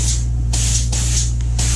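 Spray foam insulation hisses in three short bursts above and below a gap, close and loud over a steady low hum.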